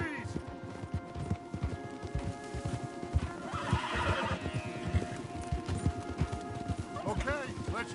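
Horses in the video game Red Dead Redemption 2 neigh and whinny while hooves clip-clop steadily along a wooded path. Voices talk over the animal sounds the whole time.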